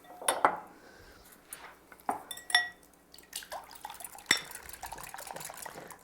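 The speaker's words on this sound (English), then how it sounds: "then I'm going to scramble the eggs" Eggs being scrambled in a pan on an induction stovetop: light clinks and scrapes of a utensil against the pan, irregular taps and a few sharper metallic knocks, fairly quiet and close with no talk.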